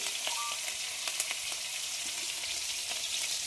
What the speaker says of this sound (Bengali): এবার কাঁচা লঙ্কা আর টমেটো কেটে রেখেছি, এটা দিয়ে দিলাম।